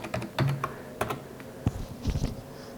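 Keystrokes on a computer keyboard, a few scattered clicks then a quick cluster of taps, close and clear with no talking.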